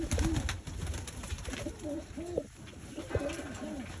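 Pigeons coo in soft, low, rolling calls, several phrases repeating one after another over a faint background hum.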